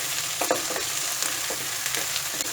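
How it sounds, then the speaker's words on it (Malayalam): Potato pieces frying in hot oil in a pan for a potato and beans dry curry, with a steady close sizzle and a few soft stirring scrapes throughout. "ഈ ഉരുളക്കിഴങ്ങ് ഒന്ന് നമുക്കിതിലൊന്ന് ഫ്രൈ ചെയ്തെടുക്കാം"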